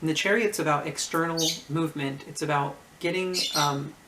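A pet bird squawks and chatters indoors in repeated harmonic bursts, loud and close, running beneath a person talking steadily.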